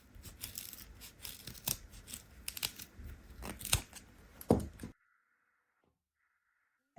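Scissors snip off the ends of a handmade mini pumpkin basket, several sharp close cuts with crisp crinkling in between, then the sound stops abruptly into near silence.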